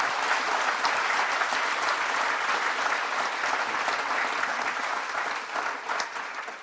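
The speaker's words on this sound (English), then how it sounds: "please join me in, for a round of applause" Sustained applause from a conference audience at an opening plenary, dense steady clapping throughout, fairly close and loud, tapering slightly near the end.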